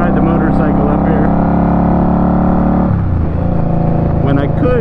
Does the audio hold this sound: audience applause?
no